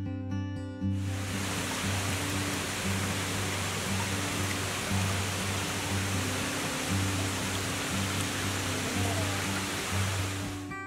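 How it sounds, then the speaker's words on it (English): Water flows steadily along a channel from a creek into the 1886 Mingus Mill, a water-powered turbine mill. It makes a constant, loud rushing hiss, with a low, even hum beneath. "You can follow the water as it's channeled away from the creek and into the mill."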